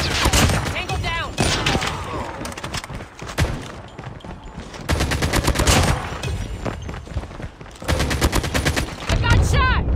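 Loud bursts of automatic fire in Call of Duty Mobile come in several volleys separated by short lulls, with sharp close shots and rattling sprays.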